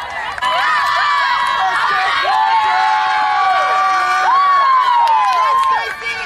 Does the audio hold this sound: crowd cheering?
yes